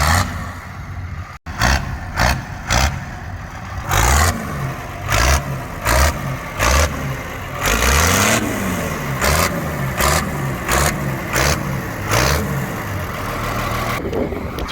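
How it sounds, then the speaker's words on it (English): A heavily modified farm-class pulling tractor at a tractor pulling event in Brechin, Scotland, roars loudly and nearby, its engine surging and revving in repeated waves over constant crowd and site noise. "The tractor sounds really good."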